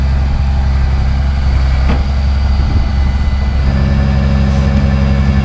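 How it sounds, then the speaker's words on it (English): A flat deck tow truck's engine idles nearby with a steady low diesel rumble, with a faint clank partway through and no talking. "The tow truck is here."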